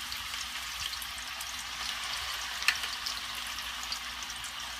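Food fries in a pan with a soft, continuous sizzle and crackle, a single sharper pop standing out midway, heard alone without talking.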